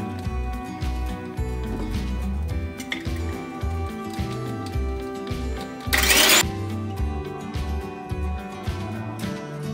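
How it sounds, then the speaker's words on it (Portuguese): An electric hand mixer whips a carton of chilled whipped cream, a steady mechanical whir running throughout with a brief louder burst partway through. "vou colocar uma caixinha de chantilly gelado e vou bater na batedeira até ela dobrar de volume"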